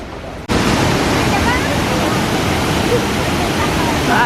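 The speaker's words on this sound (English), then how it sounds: "At the Kuang waterfall." Kuang Si waterfall near Luang Prabang, Laos, roaring as a loud, steady broadband rush of falling water that starts abruptly and holds constant, heard close up with no voices.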